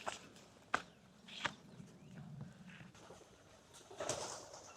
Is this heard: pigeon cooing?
yes